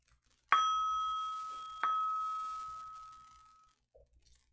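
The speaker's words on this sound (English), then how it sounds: "How many times did I strike this bell?" A bell struck twice, two clear metallic rings about a second apart, the second strike layered over the first's lingering tone, which rings on and fades slowly in a quiet room.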